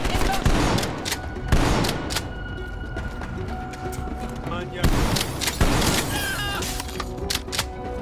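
Rapid automatic gunfire in Black Ops Cold War, played on PS4: dense bursts of shots crackle through the whole stretch, with louder volleys near the start and middle, and voices murmur underneath.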